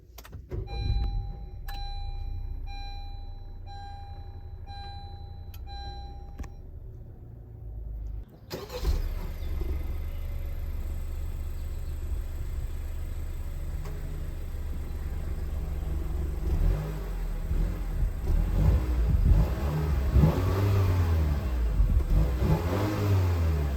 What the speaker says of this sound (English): So let's go ahead and start her up.